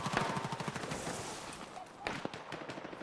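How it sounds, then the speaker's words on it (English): Rapid bursts of automatic gunfire in Battlefield 6, quick repeated cracks for the first second and again later, fairly faint and slightly distant. "somebody's trying to shoot us"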